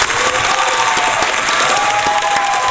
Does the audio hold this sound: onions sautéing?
no